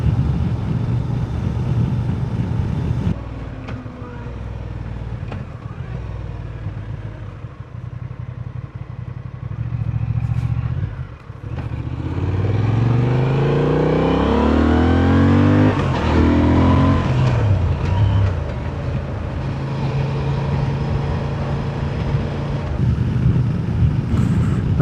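A Honda Transalp 750 motorcycle engine drones steadily in sixth gear while climbing a hill, close and continuous, with rising and falling tones as it labors under load and wind rushing past.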